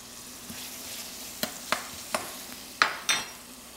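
Sliced vegetables for pepper steak cook down in a pan, giving a soft steady sizzle with several sharp stirring scrapes and clinks spaced through it, close and moderately loud, no voices.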